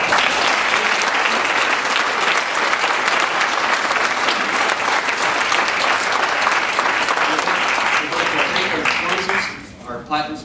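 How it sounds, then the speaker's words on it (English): Loud, sustained audience applause for panelists at an energy and economic policy event, a dense wash of clapping that runs nearly ten seconds before tapering off. "Let's give them a round of applause."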